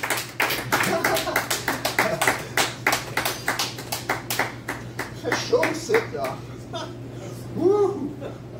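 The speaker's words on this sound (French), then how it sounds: "une bonne main d'applaudissement pour Daniel Blais" A cabaret audience at a Halloween show gives a round of applause for a performer, with steady close hand claps throughout and voices and chatter mixed in toward the end.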